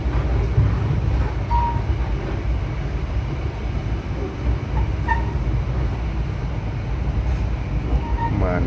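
Inside the Mutiara Timur long-distance passenger train in Indonesia, a steady low rumble of rolling wheels and carriage noise fills the whole span, with faint voices and small clicks beneath it.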